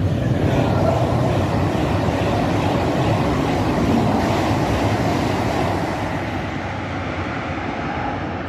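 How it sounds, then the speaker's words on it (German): An IC4 intercity train rumbles past steadily and loudly near a tunnel on the VDE 8 line, a broad continuous roar that eases slightly toward the end, with no voices. "Es kommt ein IC4."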